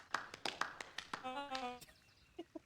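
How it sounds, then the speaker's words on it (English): Slow, sparse clapping from two people in a video game, a handful of separate claps with brief tonal game chimes between them and a few softer taps at the end. "Slow, like, two people clapping is so funny."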